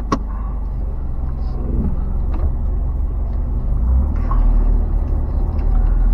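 Car driving on a short trip, a steady low engine and road rumble from inside the cabin with a few faint clicks and knocks, continuous and moderately loud.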